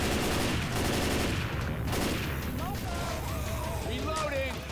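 Continuous gunfire and chaotic combat noise from Left 4 Dead 2 fill the scene at a steady loud level, with voices talking over the din.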